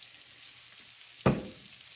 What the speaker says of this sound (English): Get some of these vegetables over here in the olive oil.